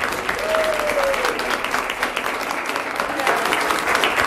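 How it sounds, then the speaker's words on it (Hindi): A crowd applauds steadily and loudly to welcome Dushyant Chautala, named Achiever of the Year 2014, at an awards event, a dense continuous clapping with a brief whistle-like tone early on. "बहुत ही तालियों के साथ स्वागत करिए दुष्यंत चौटाला का"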